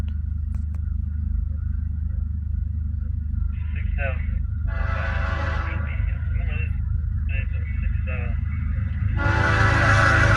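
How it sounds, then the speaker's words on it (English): A CSX mixed freight and auto rack train rumbles steadily with heavy low-frequency roar and clanking railcars, while a voice speaks intermittently over the continuous noise. "CSX M267 is a daily mixed freight / auto rack train"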